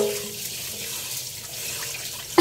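Tap water runs steadily into a pot as rice is washed for cooking, a continuous close splashing flow with a brief clatter right at the end.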